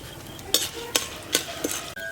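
Fenugreek seeds and urad and chana dal fry in hot oil for a Tamil brinjal kara kuzhambu, with a soft sizzle under several sharp clinks and scrapes of a spoon stirring in the pan.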